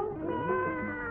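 A cat meows in a drawn-out, wavering cry that rises and falls for about a second, fairly close and clear against a faint room background.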